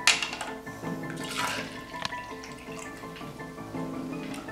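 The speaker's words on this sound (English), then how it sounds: "Here, let me pour the booze," Booze being poured into a glass at a lavish party, a steady liquid splash and trickle with faint clinks over a busy background of music and room noise.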